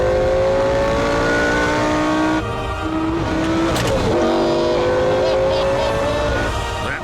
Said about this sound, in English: The sound of a 5-litre V10 engine.